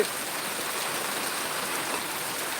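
Heavy rain pours down steadily, a dense, even hiss of water striking surfaces without pause, loud and close, with no voices.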